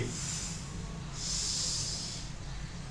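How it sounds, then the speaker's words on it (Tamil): Two forceful nasal breaths during a yoga breathing exercise, a long hiss-like inhale or exhale followed by a longer, stronger one, close and steady over low room rumble with no talk. "மூச்சு வாங்கி மூச்சு விடுங்க"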